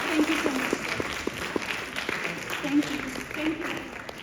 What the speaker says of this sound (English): Please give a big round of applause for our wonderful volunteers.